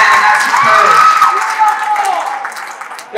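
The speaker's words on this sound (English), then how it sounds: "Give him a round of applause." A school assembly audience claps while a loud voice whoops and cheers over the noise. The sound is near and energetic and tapers off after about three seconds.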